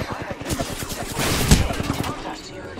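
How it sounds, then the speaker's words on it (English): Rapid gunfire from enemies in the Apex Legends video game, a dense burst of close shots peaking in a loud crack midway, with voices under the firing. "The enemies are shooting at me."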